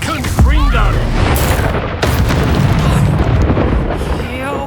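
A Confringo blasting spell in Hogwarts Legacy lands with a loud, close boom, followed by rumbling blast noise and sweeping magical whooshes during a fight.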